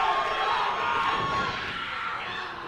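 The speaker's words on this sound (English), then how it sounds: "The Barrie Wrestling crowd is as loud as I have ever heard them." A wrestling event crowd in Barrie roars and cheers in a dense, sustained wall of noise, loud and steady, gradually easing slightly toward the end.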